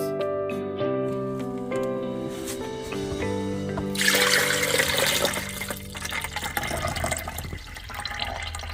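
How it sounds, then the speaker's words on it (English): A juicer releasing a batch of juice for a detox drink begins with tonal mechanical humming, then gives way to a steady rushing pour of liquid that continues to the end. "I am going to let out my second batch of juice"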